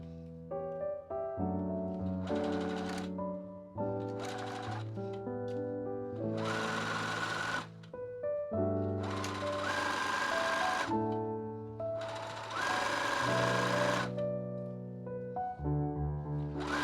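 A sewing machine stitches a dress seam in several close, rapid bursts of mechanical needle clatter, with short pauses between runs.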